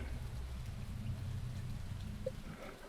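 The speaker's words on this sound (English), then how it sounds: "it's still raining in my game" Steady rain falls in the farming video game Stardew Valley, a soft, continuous hiss that holds at an even level throughout with no other sounds over it.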